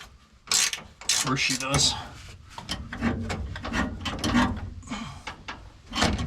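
Hand wrenches ratchet and turn bolts while working on race truck #19, with brief clicking and metal rubbing under loud, close talk between mechanics.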